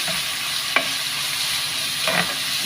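Garlic and green chillies fry in a pan with a steady close sizzle, broken by two brief stirring scrapes, while they cook for a ridge gourd and sesame chutney. The sound is alone, with no voices.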